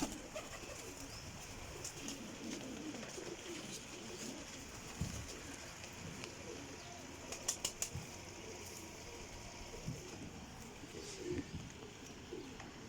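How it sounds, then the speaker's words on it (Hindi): Cheena sebe wala pigeons coo softly and flap their wings in a loft, with low murmuring coos running throughout and a few sharp bursts of wingbeats standing out midway. "चीना सेबे वाला कबूतर जो माशाल्लाह बहुत हाई क्वालिटी का जनाब सलारा"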